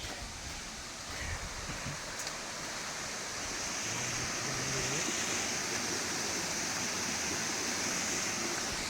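A multi-tiered waterfall on a forest trail roars in a constant broadband rush of falling water, steady and fairly close, growing slightly fuller toward the end with no talk over it.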